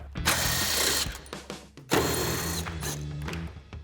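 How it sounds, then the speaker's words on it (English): Socket ratchet clicking while loosening headlight screws on a 2019-2024 RAM 2500, close and fairly loud, in two bursts of rapid mechanical clatter with short pauses between. "So we'll grab our 10mm socket and pop those out."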